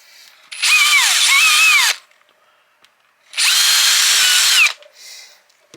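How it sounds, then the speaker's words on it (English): Power drill boring through a door while marking a brass kick plate position on a screen porch: two loud sustained bursts of about 1.5 seconds each, separated by a pause, with the motor pitch rising and dipping as the bit bites. "the way I'm going to be able to mark where to put this back is to drill through the door"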